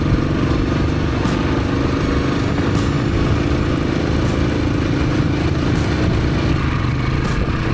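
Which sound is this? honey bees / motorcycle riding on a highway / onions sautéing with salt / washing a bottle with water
motorcycle riding on a highway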